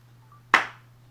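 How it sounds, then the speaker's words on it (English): A single sharp hand clap marks a film slate, loud and close, with a quick decaying ring over a faint steady hum. "Make that clap louder."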